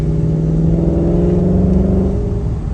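A 2019 Ford Mustang GT drives along with an uneven transmission, its engine a steady, loud mid-range drone with a low hum that holds constant throughout.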